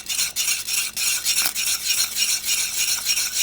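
A spoon stirs thick, sticky kimchi porridge paste over medium heat, making rhythmic scraping strokes about three per second that come close, loud and clear, with no talking.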